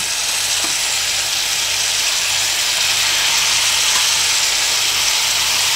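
Fish fries golden in a pan with a loud, dense, continuous sizzle and crackle close up, steady throughout with no voices.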